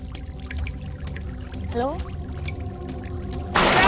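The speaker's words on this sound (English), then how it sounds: "I think the tunnel's channeling the water" Water pours and trickles through a tunnel, a steady rushing flow under a brief call, then surging into a loud, dense roar at the end.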